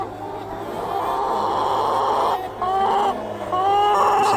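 Hens in a poultry hall, adult eighteen-week-old layers, keep up a dense, continuous chorus of clucking and squawking, with a few louder drawn-out calls rising near the end; no speech.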